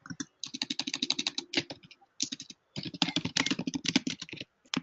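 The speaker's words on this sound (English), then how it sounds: "It sounds like you're typing." Rapid bursts of computer keyboard typing, clattery and fairly close, in several runs separated by brief pauses, with no talking.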